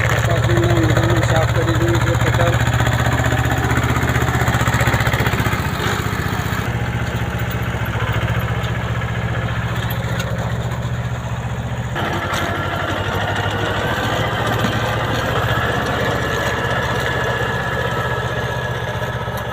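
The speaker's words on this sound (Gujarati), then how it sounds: "mini tractor" A mini tractor engine runs continuously, a loud, steady throbbing drone with a slight shift in tone partway through, heard up close.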